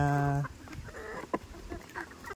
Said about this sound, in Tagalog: magpakain muna tayo sa ating free range chicken